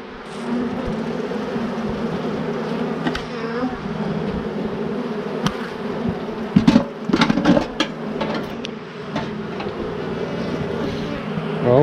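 Honeybees drone and buzz steadily around a hive during an early spring inspection, a dense close swarm hum with sharper bursts of nearby wingbeats and a few light knocks in the middle.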